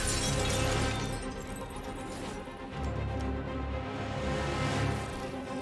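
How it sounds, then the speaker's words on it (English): Glass shatters inside the game Detroit: Become Human: a sustained crash and scatter of breaking glass over a dense, steady background of game sound and music, with no talking. "We're gonna break the glass."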